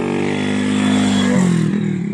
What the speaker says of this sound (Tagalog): May motor naman dito nagpapatakbo.